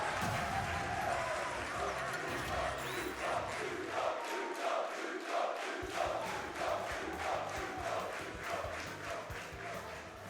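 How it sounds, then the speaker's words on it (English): A tournament crowd cheers and claps in rhythmic waves throughout the Super Smash Bros grand finals, loud and continuous, with a brief dip in the low rumble midway. "Crowd erupting once again for Glutonny."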